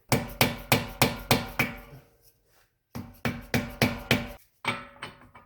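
A hammer strikes to bend up the axle nut tab on an 8th-gen Honda Civic: sharp metallic blows at a brisk, even rhythm in two bursts of five or six, a short pause between, then a couple more hits.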